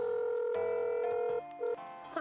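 Phone dialing in the video game Dave the Diver: a steady tone followed by a short run of stepped electronic dial beeps and a ringing chirp at the end, clear and close with no voices.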